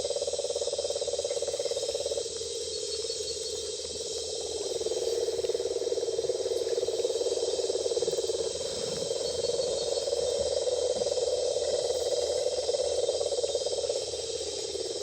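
A nighttime Peruvian Amazon soundscape of frogs and insects makes a continuous dense chorus of high trilling and a steady lower droning croak that holds at an even level throughout, with no voices.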